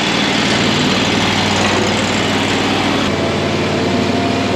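A Harbor Freight replacement engine runs in a commercial lawn mower with a loud, steady, close drone that holds without letup.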